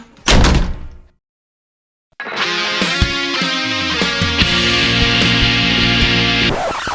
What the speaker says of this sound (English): Shut that door!